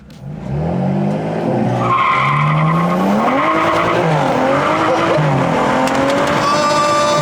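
A BMW F30 335i with the N55 engine launching hard, its engine revving up through rising harmonics as tires squeal loudly and steadily alongside, the sound close, sustained and loud for several seconds.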